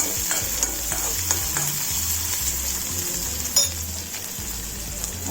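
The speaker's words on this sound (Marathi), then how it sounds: "परतून घेऊया लाल होईपर्यंत" Garlic, onion, chilli and ginger sizzle steadily in a pan while being stirred, with repeated scraping strokes and an occasional clink of the utensil against the metal, loud and close with no talking.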